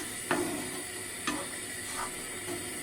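Bread is stirred into a sizzling pan while making açorda, a traditional Alentejo bread soup, with a steady fry hiss and a few soft scraping strokes at intervals.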